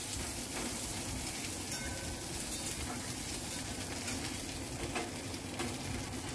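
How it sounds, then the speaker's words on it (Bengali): Chopped mixed vegetables frying in a pan for upma, a spiced semolina dish, giving a steady, soft hiss with faint crackles that continues evenly without a break. "এখন আমি সবজিগুলো ভেজে নিচ্ছি।"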